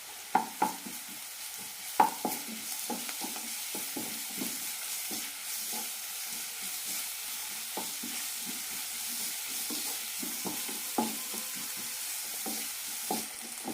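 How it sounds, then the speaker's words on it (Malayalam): Garlic-ginger paste fries in a pan for coconut milk ghee rice. A soft, constant sizzle runs beneath frequent scraping and tapping strokes of a spoon being stirred, with no voices. "ഇതിലേക്ക് വെളുത്തുള്ളി ഇഞ്ചി പേസ്റ്റ് ഇടാം ഒരു ടീസ്പൂണാണ് ഇടുന്നത് നന്നായി മാറ്റാം"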